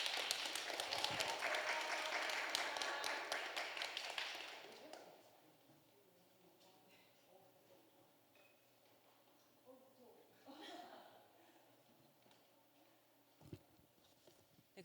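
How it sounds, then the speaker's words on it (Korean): An audience at a climate-change panel discussion during a festival claps loudly to welcome panelists for a few seconds, then the applause fades into quiet room noise with faint voices and scattered small sounds. "박수 부탁드리겠습니다."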